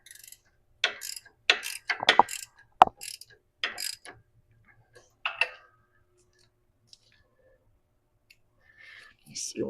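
A ratchet wrench turning nuts on the brakes of a Case 430 tractor gives short bursts of rapid clicking in separate spurts, close by, with someone talking quietly between them.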